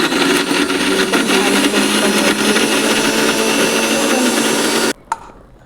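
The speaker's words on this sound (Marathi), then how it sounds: "आता आपल्याला मिक्सरला ते फिरवून घ्यायचं आहे" A mixer grinder whirs loudly and steadily for about five seconds, then cuts off abruptly, leaving a brief clatter and near-silence.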